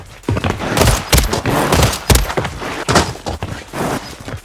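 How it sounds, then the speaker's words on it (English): Single-shot gunfire on Rebirth Island rings out in a video game, one tap after another. Sharp, loud reports come in an uneven rhythm with about a dozen shots, no talking. "Tapping with one bullet over and over again."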